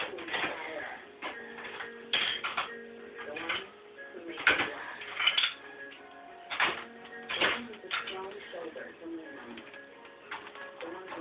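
A cockatiel attacks its own reflection in a mirror, with scattered taps, flutters and short chirps and coos in an irregular burst, while a person talks over it.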